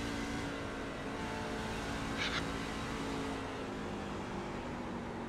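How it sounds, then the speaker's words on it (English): A loud truck engine from a racing video game holds a constant droning rumble from start to finish, close and steady, with one brief higher clatter midway and nobody speaking. "my truck's very, very, very loud"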